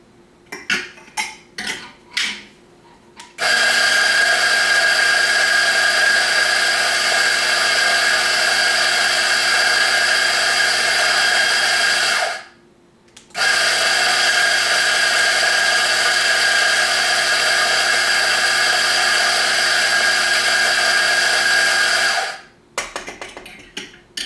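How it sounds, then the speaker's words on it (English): A Mazzer Mini grinder grinding fresh coffee beans into a cup, loud close steady whirring drone in two long bursts of about nine seconds each, preceded by a few clicks and rattles, with no talking. "I'm going to go ahead and start by grinding my beans"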